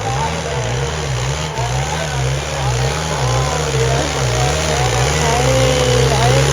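Tractor engine revving hard during a trolley-pulling contest, a loud, close throbbing drone that rises and falls in rhythmic pulses as the load strains, with crowd noise mixed faintly underneath.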